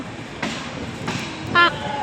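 A train rolls past at a Bangladeshi station on the Panchagarh to Sirajganj line, with rumbling bursts and a short horn toot near the end.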